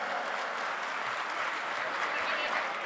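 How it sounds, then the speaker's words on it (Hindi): Steady, dense applause from a large audience welcoming an MP at a centenary celebration event in Jaipur, a continuous wash of many hands clapping at even loudness throughout. "जोरदार तालियों से आपका स्वागत है"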